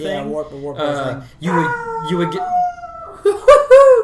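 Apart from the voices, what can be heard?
dog howling and barking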